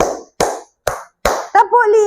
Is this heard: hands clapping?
yes